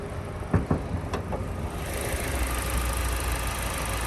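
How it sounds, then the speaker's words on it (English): A 2017 Chevy Sonic's small 4-cylinder engine idles steadily with the hood open, a smooth close hum, with a few light clicks in the first half. "Little 4-cylinder motor."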